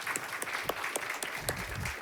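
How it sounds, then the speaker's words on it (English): Audience applause for a conference panel at a library event, a steady wash of many hands clapping at moderate distance, fairly quiet, with a few sharper individual claps standing out. "give them an applause"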